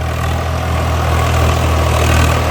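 A tractor engine runs loud and close, holding a steady, heavy low rumble throughout with a slight rise in revs toward the end.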